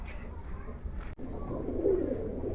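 Giribaj pigeons coo softly and close by in a low, rolling murmur, the calls swelling toward the end over faint room noise.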